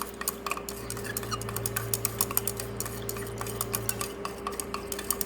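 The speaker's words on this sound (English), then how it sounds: "We'll dissolve it, stir it properly so that the soil dissolve in it." Soil being stirred into water in a container, a quick series of light scraping and clinking taps that repeat steadily for several seconds, close and moderately quiet, with a low steady hum underneath.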